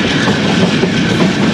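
The Allama Iqbal Express runs between Pattoki and Lahore behind an aging Pakistan Railways Blue Tiger locomotive, with a loud, steady rumble and clickety-clack of wheels heard from inside the carriage.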